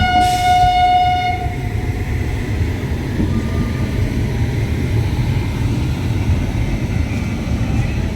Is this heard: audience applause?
no